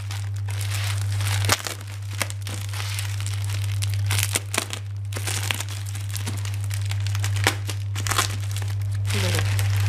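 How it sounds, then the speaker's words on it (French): Packing tape being peeled off large cardboard storage boxes, a steady run of crinkling, ripping bursts close by over a constant low electrical hum. "J'enlève le scotch."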